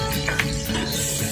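Spices and three green chillies deep frying in hot oil for Salem-style biryani, a steady close crackling sizzle with faint stirring clinks and no voices.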